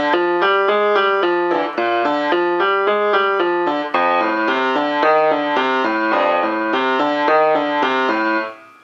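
A piano plays a boogie woogie left-hand pattern, a bouncy repeating walking bass figure with steady rhythmic notes, clear and close with no talking.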